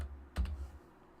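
A quick burst of a few keystrokes on a computer keyboard, faint and close, standing alone against a quiet room hum.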